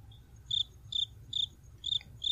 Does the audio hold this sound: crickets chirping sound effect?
yes